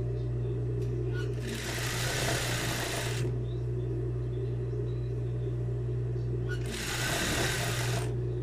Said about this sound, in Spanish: Y también realizamos la costura del otro lado.